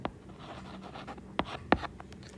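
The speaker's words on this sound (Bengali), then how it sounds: "খ নাম্বারটা লিখি এখানে" Pen or pencil writing on paper during a Class 9 math lesson, a soft scratchy stroke sound with a few sharper taps and clicks, close and fairly quiet, with no talking.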